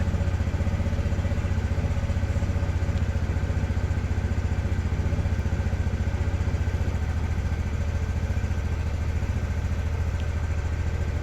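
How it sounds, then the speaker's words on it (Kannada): TVS Jupiter 125 scooter engine idling close by, a steady low rapid putter that runs evenly and continuously without any speech. "ಗಾಡಿ ಸ್ಟಾರ್ಟ್ ಮಾಡ್ಬಿಟ್ಟು ತೋರಿಸ್ತೀನಿ ನೋಡಿ ಸರ್"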